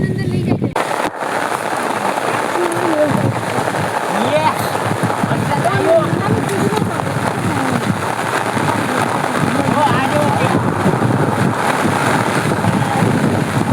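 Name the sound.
rain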